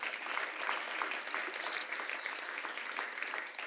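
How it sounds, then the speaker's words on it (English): At a grade 6 celebratory ceremony, the audience applauds steadily after a performance, a continuous, fairly distant patter of many hands that stays even and moderate. "Let's give them another round of applause"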